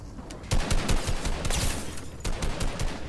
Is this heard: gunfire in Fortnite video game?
yes